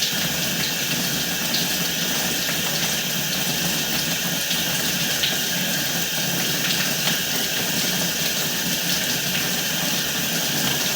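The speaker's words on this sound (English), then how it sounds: "we can also run some water here in the stationary tub." Water runs steadily from a faucet into a stationary laundry tub and down its drain line, making a continuous hiss and gurgle alongside a low mechanical hum, with no talking.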